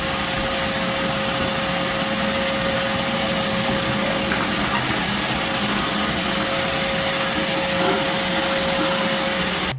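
A Craftsman wet/dry vac runs nonstop while vacuuming drywall dust, a loud steady motor whine with a constant tonal hum and airy rush, unchanging throughout and with no voices.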